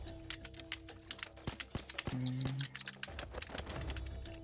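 Rapid, irregular key presses on a computer keyboard, hammering the F key during a Payday 2 heist, clicking close and fairly loud with game sounds and tones in the background.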